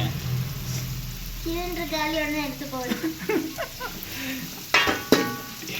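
Bitter gourd sautés in a pan with a low sizzle and occasional stirring clatter, while a person talks over it for most of the stretch.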